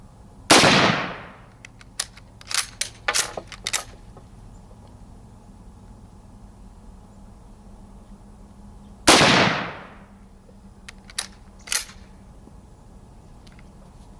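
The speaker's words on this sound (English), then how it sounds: "so we'll just fire off 5 and see." Two loud, sharp gunshots from a Mosin Nagant 91/30 rifle, about eight seconds apart, each ringing out briefly, with a few fainter clicks and clacks of handling between them and no talk.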